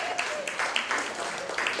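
Audience clapping at a grief symposium: a light, scattered patter of hands, moderately distant and fairly quiet, carrying on steadily for under two seconds.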